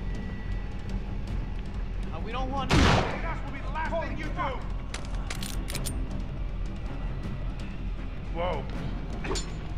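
A single loud, sharp gunshot cracks nearby in the survival action game I Am Alive, standing out from a noisy game soundscape, while someone speaks.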